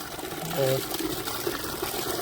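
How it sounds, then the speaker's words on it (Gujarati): Water is poured from a vessel onto newly planted trees at an outdoor tree-planting event at a Hanuman temple, making a steady splashing gush that runs through the whole stretch, with voices talking over it. "તો જે નવા ઝાડવા જેવા જાય એને પાણી પાવાનું છે"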